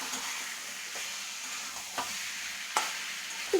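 Potatoes being sautéed and stirred in a pan for Bengali aloo dum, a soft continuous sizzle with a few sharper scraping strokes of the spoon.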